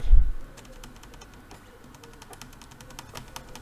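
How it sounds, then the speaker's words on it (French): Escape key pressed on a computer keyboard during PC startup, a soft thump followed by a scatter of faint, quick key clicks in a quiet room. "on appuie sur la touche échappe"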